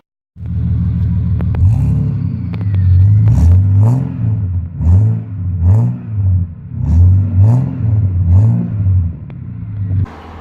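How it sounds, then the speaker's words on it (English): A modified combustion-engine car with a lumpy idle revs hard in repeated loud, rising and falling bursts, close by, engine roar dominating without any talk. "when I accelerate, it's a lot louder"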